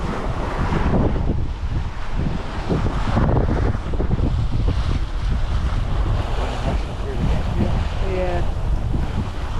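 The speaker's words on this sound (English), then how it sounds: "The wind's just shifting around a bit as we come across land here" Strong wind gusting over a sailboat in a deep cove in New Zealand's Bay of Islands, a steady loud rushing roar with waves and water splashing against the hull as the boat nears land.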